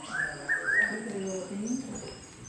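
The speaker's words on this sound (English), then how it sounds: "And the bird noises." Recorded rainforest bird calls playing at a children's discovery centre exhibit in Mary Cairncross Park: a few bright chirps and whistles up front, then lower cooing phrases, moderately loud and indoors-sounding, with faint background murmur.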